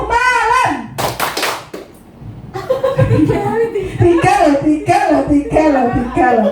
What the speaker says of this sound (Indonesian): Kalau saya berkata malam, Bapak Ibu tepuknya 3 kali.